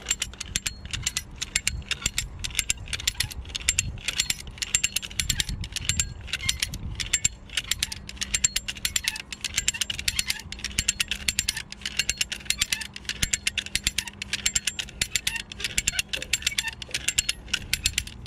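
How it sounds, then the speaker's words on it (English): A come-along hand winch ratchets steadily while pulling a loud air-conditioning blower unit, its rapid clicking pawl running continuously over a low mechanical hum. "I got my Comealong here, and I'm attached to the blower"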